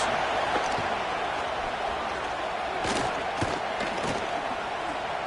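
Stadium crowd roar in the College Football 26 video game during a red zone defensive stand, a steady dense wash of noise with a few brief swells, no talk.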